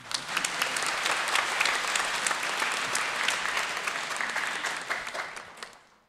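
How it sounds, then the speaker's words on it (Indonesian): A room full of people clapping steadily for several seconds, dense and lively, then fading out at the end, during a Catholic homily. "mau tepuk tangan untuk wilayah Elia"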